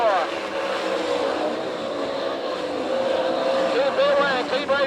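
Race cars roar continuously around a dirt speedway in an All Stars versus NCRA sprint event at Tulsa, Oklahoma, engines droning loud and steady with rising whines as cars pass, under a track announcer's commentary.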